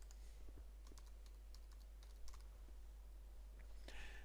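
Computer keyboard typing a single category title word into a website admin form, quick light key clicks in short bursts, faint and close, with no talking.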